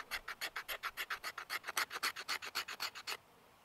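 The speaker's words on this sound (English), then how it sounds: "I take the spine of my knife, not the edge, but the spine, and I just scrape" A knife spine scrapes a stick of fatwood into fluff in about eighteen quick, even rasping strokes, close and fairly quiet, ending in near silence.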